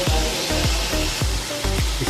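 Ridge gourd sautéing lightly in a pan, a loud steady sizzle with rhythmic stirring scrapes roughly every third of a second, no voices.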